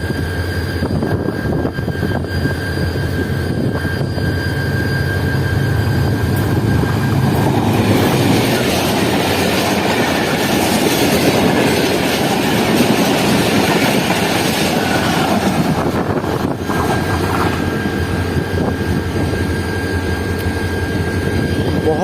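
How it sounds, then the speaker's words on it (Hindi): A short-rake train runs through at speed behind diesel locomotive GU24565 near Bin Qasim on the line to Karachi, giving a loud, steady roar of engine and wheels with clickety-clack rail noise that swells and then eases away. "काफ़ी अच्छी स्पीड में लग रही है ट्रेन।"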